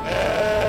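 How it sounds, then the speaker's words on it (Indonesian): A frightened sheep gives a single short, wavering bleat, loud and close, with nothing else heard over it. "ada suara domba yang ketakutan"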